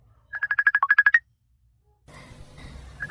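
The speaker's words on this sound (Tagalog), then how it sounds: "adda umawag iti cellphone na" A cellphone rings with an incoming call in an Ilocano comedy drama, a fast trilling electronic ringtone pattern lasting about a second, then silence before muffled room noise and a brief return of the ring.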